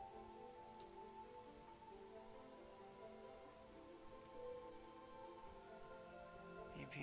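Steady rain falling in the video game Starbound, a soft continuous patter that stays faint and even throughout, with no voices.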